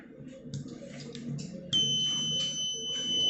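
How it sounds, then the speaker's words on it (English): A buzzer on a school-built rain detector project gives a steady high-pitched electronic tone that starts abruptly partway through and holds, after a few soft clicks and handling sounds. "When we on the switch, the LED will glow and buzzer will make sound."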